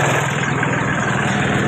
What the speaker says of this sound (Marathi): बघा ट्रॅक्टर आलाय आता